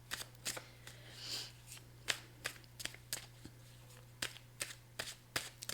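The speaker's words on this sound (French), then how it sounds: "Je vais aller chercher juste une carte pour clarifier nouvelle direction." Tarot cards are shuffled by hand in a quiet room, a series of short crisp riffling bursts at an irregular pace, close and fairly soft, with a steady low hum in the background.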